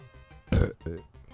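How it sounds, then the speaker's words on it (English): A short, close burp, a single low guttural belch in the middle of an otherwise quiet moment, with a faint second gurgle just after. "did they burp in ASMR?"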